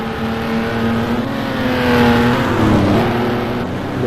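1960s Formula 1 race cars in a racing game give a continuous, loud, buzzing engine whine with several revving tones rising and falling together, with no voices.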